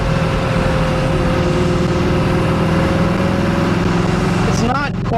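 A 1968 Chevy II Nova Super Sport engine idles steadily through a new exhaust, a loud, close, even rumble that continues throughout with a brief rising note near the end.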